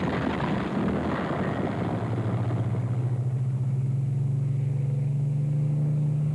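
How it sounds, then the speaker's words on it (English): Three aircraft engines on an airfield spin up from a rough rumble into a steady, rising mechanical drone. The sound is loud and continuous and close by, with no speech. "start up 3 aircraft"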